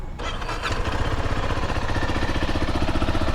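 A Zontes 350T motorcycle engine catches after a brief start and settles into a steady, quiet, even idle that runs continuously, close by, with no talking.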